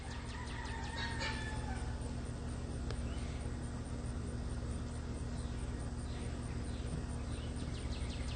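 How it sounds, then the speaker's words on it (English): A rooster crows a couple of houses away at sunrise, faint and distant, its call rising early in the clip over a constant low mechanical hum with scattered birdsong. "you hear the rooster's about two houses down now"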